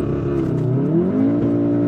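A VW Golf MK7.5 R spins its wheels on a wet road, the engine revving loud and close with a rising, wavering drone held throughout.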